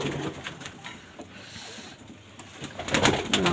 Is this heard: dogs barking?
no